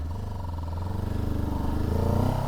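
Kawasaki Z7 Hybrid motorcycle engine running, a steady low throbbing note that swells slightly and grows a little louder toward the end, with no talking.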